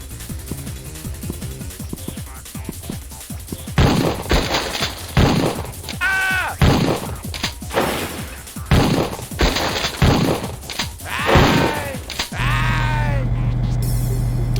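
Gunfire in a Sega Saturn shooter, with rapid bursts of repeated shots and sharp cracks over game sound effects and music, loud and close, ending in a steady droning tone.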